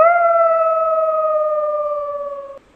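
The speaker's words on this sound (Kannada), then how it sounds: "ದೂರದಲ್ಲಿ ನಾಯಿಗಳು ಬೊಗಳ್ತಾ ಇರೋ ಸೌಂಡು" A single dog in a forest area gives one long, drawn-out howl that sinks slightly in pitch and stops abruptly after about two and a half seconds. The howl is clear and prominent against a quiet background.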